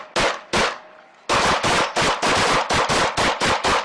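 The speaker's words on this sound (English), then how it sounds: "A hail of gunfire followed." A rapid volley of many police gunshots, two separate shots followed by a brief pause and then a fast string of loud cracks.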